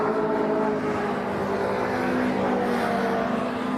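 An MG Metro Cup race car crosses the finish line at a circuit, its engine a loud, sustained drone with a steady pitch that holds close and fills the whole stretch.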